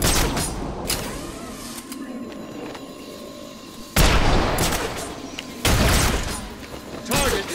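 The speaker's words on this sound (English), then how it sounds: "Explosive fire" Explosive gunfire in the Batman Arkham City video game: a few loud, broadband blasts hit abruptly over a busy mechanical background, with quieter ticking and whirring between them.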